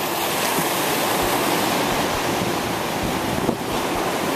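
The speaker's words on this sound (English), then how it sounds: "Light wind." Light wind blows across a beach with surf rumbling underneath, a continuous broad roar picked up close by the microphone, with no voices.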